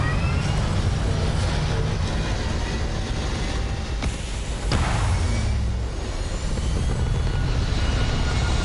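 Spaceship thrusters firing in the video game Starfield form a loud, steady roaring rumble that holds for the whole stretch, with a couple of brief whooshing swells partway through and no voices.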